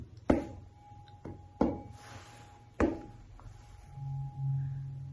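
A tuning fork tuned to the Earth's yearly-cycle frequency, struck on a yoga block covered with two layers of felt, gives three sharp strikes each followed by a steady ringing tone, with a softer low hum near the end.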